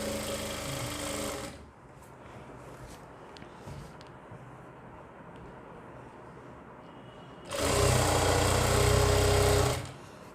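A sewing machine stitching a salwar belt runs in two loud close bursts, one at the start and another near the end, with a quieter stretch of faint handling noise between them.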